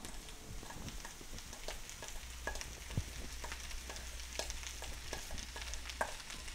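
Moroccan couscous fries in butter in a frying pan, with a steady soft sizzle under repeated scraping and stirring strokes of a utensil, close and fairly quiet, with no talking.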